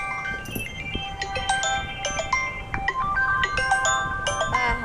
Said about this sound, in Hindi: जानवी का, जानवी का फोन है, सुबह सुबह